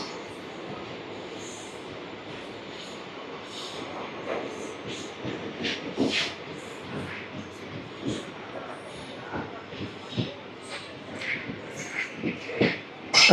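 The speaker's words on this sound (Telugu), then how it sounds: "Rameswaram Tiruchirappalli express, unreserved express." The 16850 Rameshwaram–Tiruchchirappalli unreserved express crosses the Pamban Bridge with a continuous rumble of wheels and a rhythmic clatter of rail joints, with faint squeals and knocks rising near the end, and no voices.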